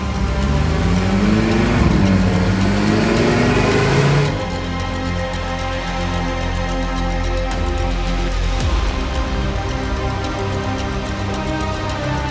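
An ABT-tuned Audi RS3 runs on a dyno, its engine droning loudly with rising and falling tones early on, then settling into a steady, strong hum that continues without speech.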